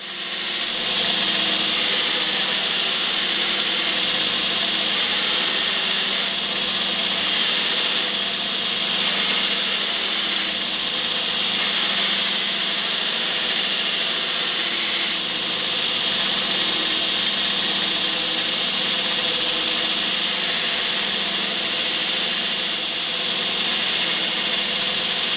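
A knife blade ground on its second side along the grind line, with a loud, steady, close abrasive hiss and whine that runs unbroken for the whole stretch with only slight swells. No one speaks.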